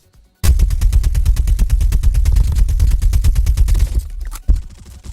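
Rapid automatic gunfire from enemy bots in the mobile shooter Call of Duty Mobile, a dense, loud continuous burst of shots lasting about three and a half seconds, then a brief pause and a single louder shot.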